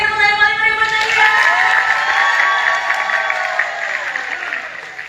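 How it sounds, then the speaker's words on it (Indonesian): An audience at an Indonesian singing event claps and cheers, a broad wash of applause mixed with sustained voices or tones that swells early and then slowly tapers off. "kita berikan tepuk tangan paling meriah buat Nadia."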